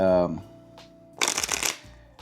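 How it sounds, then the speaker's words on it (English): A deck of playing cards riffled and shuffled during a card magic sleight, a quick burst of fluttering clicks lasting about half a second, close and fairly loud, just after a voice. "go ahead, shuffle the cards up"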